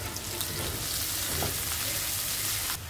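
Chopped onions, green chilies and a spoonful of cumin frying in a pan, a continuous close sizzle with faint stirring, no voices.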